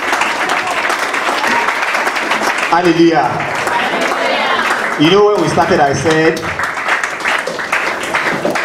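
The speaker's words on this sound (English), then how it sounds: "give a sounding round of applause to our Father" A church congregation applauds, a continuous wash of clapping that runs beneath a preacher's amplified voice as he speaks over it.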